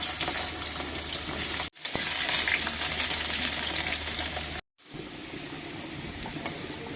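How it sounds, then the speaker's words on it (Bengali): Potatoes frying in oil in a wok, a loud continuous sizzle and hiss close by, broken twice by brief moments of silence before the frying noise resumes. "ফার্স্টে আমি আলুগুলি ভেজে নেব।"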